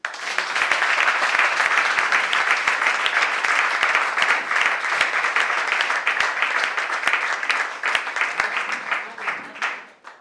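A church congregation breaks into loud, sustained applause and clapping, a dense crackle of many hands that holds steady for several seconds before tapering off near the end, with a voice faintly over it.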